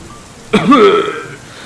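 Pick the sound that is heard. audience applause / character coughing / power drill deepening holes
character coughing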